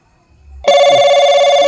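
A mobile phone starts ringing abruptly after a brief low rustle, its steady electronic tone loud and close, with no voices.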